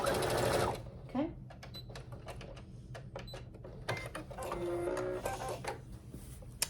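A sewing machine back stitches a boxy fabric pouch. Close bursts of rapid mechanical whirring start and stop as the stitching reverses, and a voice talks between the runs.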